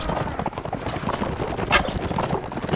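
Horse hooves from the video game Mount and Blade clatter in a rapid, continuous galloping rhythm, mixed into dense battle noise at moderate volume.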